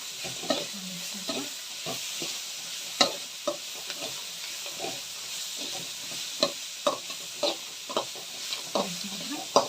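Cucumber being stirred in a hot pan for poha chitranna, a low continuous sizzle punctuated by repeated spoon scrapes and taps against the pan at an uneven pace, close and clear.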